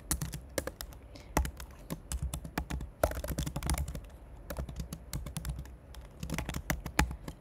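Typing on a computer keyboard while entering git commands: quick irregular bursts of close, crisp key clicks with short pauses between them, fairly quiet and without talk.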